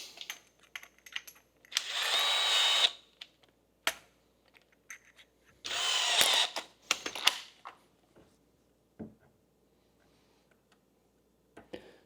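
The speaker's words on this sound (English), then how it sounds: "See if we can drill a hole somewhat centered in this" A battery-powered DeWalt drill with a 5/16 bit bores into a cap in two short, loud whirring bursts, separated by quiet clicks and handling noises.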